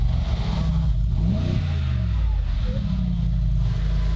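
A car engine revs up and down close by, its pitch rising and falling in a couple of swells over a steady idle, while people talk quietly beside it.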